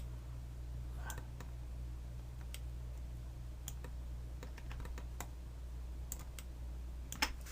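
Sparse, faint mouse clicks at a computer running Cinema 4D R23, scattered irregularly over a low steady hum, with no talking.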